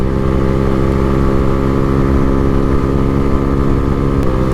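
Lexmoto Hawk 125 motorcycle engine held high in the rev range while riding, a loud continuous buzzing drone with steady pitch and a brief shift near the end, wind noise underneath.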